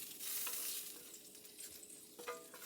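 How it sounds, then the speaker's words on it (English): Shrimp sizzling in a frying pan as they are lifted out, a close, fairly quiet hiss with faint scraping and a small clink near the end, no voices. "I'm just going to take these shrimp out."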